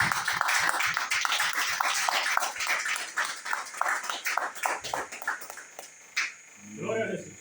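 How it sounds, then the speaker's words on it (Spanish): Church congregation clapping during a Spanish-language Bible study service, a dense run of hand claps over several seconds with voices mixed in, tapering off before a brief spoken voice at the end. "Vamos a darle un fuerte aplauso a Dios."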